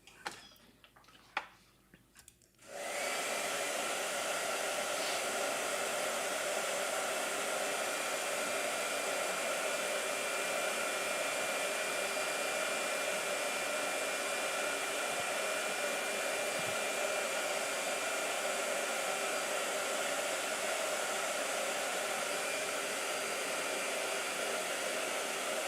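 A blow dryer runs loud and steady, drying a gouache painting on hot press paper in a sketchbook, after a few seconds of quieter handling sounds at the start.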